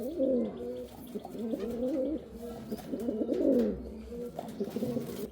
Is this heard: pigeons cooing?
yes